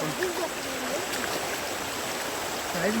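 A freshwater stream flows at night, a steady broadband rush of moving water close by with faint voices in the background.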